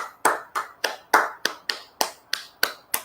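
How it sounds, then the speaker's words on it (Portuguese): Audience clapping at the close of a spiritist lecture: about ten sharp, evenly spaced claps in a steady beat, close and fairly quiet, with no voices. "peço uma salva de palmas"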